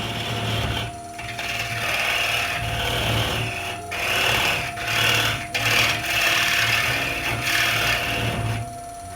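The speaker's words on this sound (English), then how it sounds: "we'll just clean it up with the skew chisel" Wood spinning on a lathe being cut with a skew chisel, a steady scraping, rasping hiss that rises and dips in short passes over a constant low motor hum, close and fairly loud throughout.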